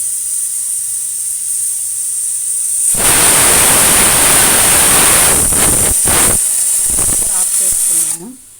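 A pressure cooker vents steam while cooking spinach-and-lentil curry in a home kitchen, a loud, broad hiss that bursts in after about three seconds, sputters and pulses through the middle, then cuts off near the end.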